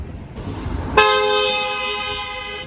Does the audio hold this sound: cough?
no